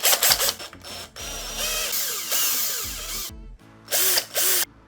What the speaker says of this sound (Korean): 최첨단 드릴로 시원하게 뚫어줍니다.